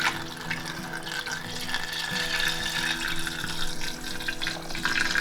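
Milk pours steadily into a jar while homemade yogurt is being made, a continuous, even liquid rush that lasts the whole stretch with no talking.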